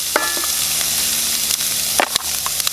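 Food frying in lard in a pan, with onion and celery on the go for hunter's chicken: a steady, close sizzle that crackles throughout, broken by a few sharper spatters and clinks.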